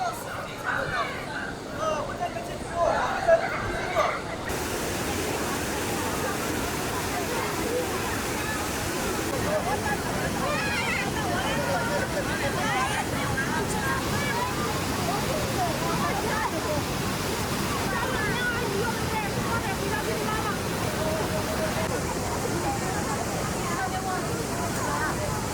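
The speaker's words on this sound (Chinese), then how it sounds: "壮观万马奔腾的这个黄河之水" Roaring rush of the Hukou Waterfall on the Yellow River, a continuous dense wash of falling water that stays steady and loud throughout, with crowd noise mixed in near the start.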